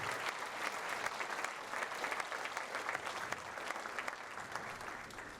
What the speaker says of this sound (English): please give all of our sponsors and exhibitors one final round of applause